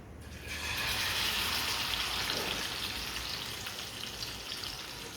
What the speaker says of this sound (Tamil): இந்த எண்ணெயில் அப்படியே போட்டு எடுக்கலாம்